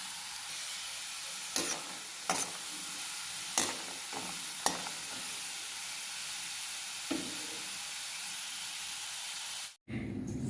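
Seedai, small Krishna Jayanthi snack balls, frying in oil on a low flame: a steady close hiss and sizzle with several sharp spoon clinks and scrapes against the pan, then a brief pause near the end.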